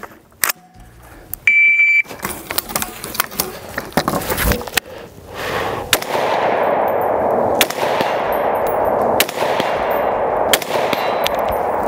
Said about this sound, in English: Same drill, three shots on target, this time deploying the bipod